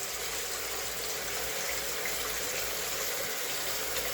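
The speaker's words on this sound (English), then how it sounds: "So hand wash number 2." Water runs steadily from a sink tap during a second hand wash, a continuous broadband rush with no pauses and no talking.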